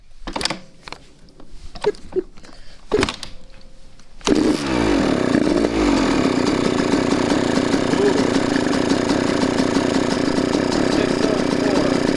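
Two-stroke street-legal dirt bike engine starting after a few clicks and knocks, then settling into a steady, loud, buzzing idle that runs on alone.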